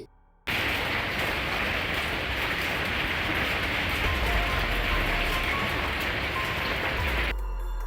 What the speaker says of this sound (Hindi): टेक्सास में यह बर्फ के ओले इतनी तेज पड़ रहे थे कि घर के अंदर आने लगे।